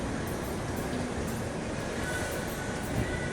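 Steady low rumble of an LRT light rail train passing, with continuous wheel and track noise heard from nearby and no break in the sound.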